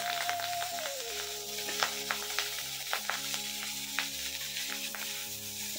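Rohu fish coated in turmeric and salt fries in a hot wok, giving a steady close sizzle broken by sharp pops and crackles, with a faint humming tone underneath and no talking.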